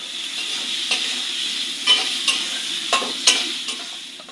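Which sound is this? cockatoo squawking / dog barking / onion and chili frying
onion and chili frying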